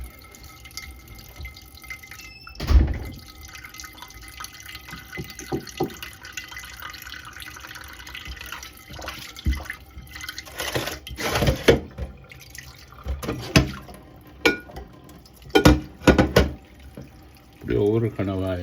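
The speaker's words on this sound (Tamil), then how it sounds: "கனவாயை இப்படி கொஞ்சம் கழுவி" Squid being rinsed under a running kitchen tap while preparing a South Indian calamari dish, with water splashing and dripping in uneven bursts, some louder gushes near the end, close by and without talk.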